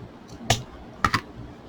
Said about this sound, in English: Take a pair of scissors, cut it at an angle.